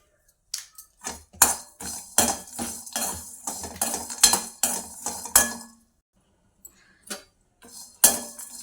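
Coriander seeds and cumin dry roasting in a pan, stirred with a utensil that scrapes and clicks against the metal in quick, irregular bursts, then a pause and a few last scrapes; no one talks.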